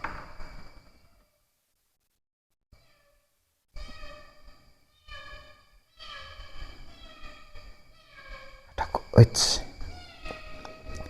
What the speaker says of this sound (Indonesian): Itu kucing asli loh ya, bukan kucing jadi-jadian ya.